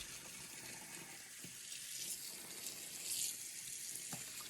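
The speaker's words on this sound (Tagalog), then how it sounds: "basain ko muna bago ko ito lagyan ng detergent na pang cashmere" Water running and sloshing in a basin while a cashmere garment is wetted for a hand wash, a faint, steady hiss with small splashes, quiet and close, with no voices.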